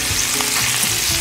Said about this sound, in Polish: Smażymy jeszcze przez 2 lub 3 minuty.